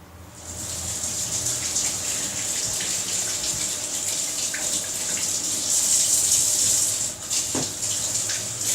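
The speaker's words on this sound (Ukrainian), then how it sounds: "Зараз ми миємо огірки і несемо їх сюди." Tap water runs steadily in a kitchen as cucumbers are washed beneath it, a loud, close gushing hiss that swells briefly partway through, with faint handling bumps.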